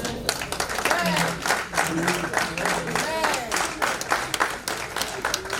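An event audience applauds in a lively burst, with clustered claps over scattered voices and occasional tonal sounds, likely cheering, mixed through.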